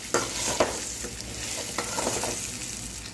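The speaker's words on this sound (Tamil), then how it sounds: "அதை சேர்த்துட்டு நல்லா இப்படி மிக்ஸ் ஆகிற மாதிரி நல்லா பெரட்டி விட்டுக்கலாம்" Boiled cassava cubes stir-fried in a pan for a Tamil-style poriyal give a soft, continuous sizzle, punctuated by several scraping spoon strokes as the pieces are tossed.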